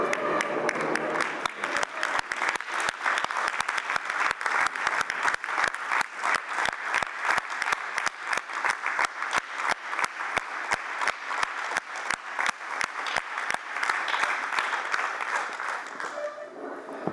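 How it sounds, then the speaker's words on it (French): Sustained applause from a large crowd, dense steady clapping lasting throughout before tapering off slightly at the end. "Je vous remercie de vous lever et de les applaudir."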